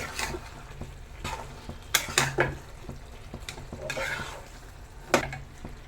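Ginger paste stirred and fried in a pan until the water cooks off: a steady soft sizzle, broken by sharp scrapes and clinks of a spoon against the pan at irregular intervals, close up and with no talk.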